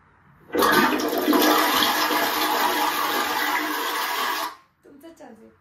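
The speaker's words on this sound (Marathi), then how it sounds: "बाथरूमचं फ्लश" A bathroom toilet flushes in one loud, steady rush of water that lasts about four seconds and then cuts off, followed by a brief quiet gurgle.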